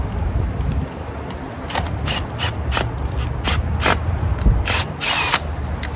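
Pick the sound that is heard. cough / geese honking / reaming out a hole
reaming out a hole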